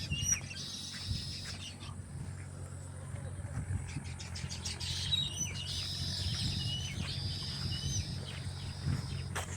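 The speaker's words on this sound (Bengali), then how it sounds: "এই যে তাল গাছ তাদের উপরে দেখতেছেন, পাখিগুলা কিচির মিচির" Birds chirp in palm trees beside an embankment, their high twitters faint and continuous over a steady low rumble throughout.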